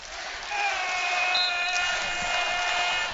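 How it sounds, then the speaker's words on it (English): A crowd at a men's college volleyball match between Lindenwood and Hawai'i swells into a sustained roar with sharp tonal cries over it, building in loudness after a quiet opening. "Crowd getting louder and louder."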